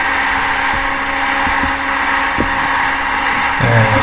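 Steady drone of a Cessna 172 light aircraft engine in flight between Celano and Santo Stefano airstrips in Italy, loud and constant from inside the cabin, with a rise in tone near the end as throttle is added.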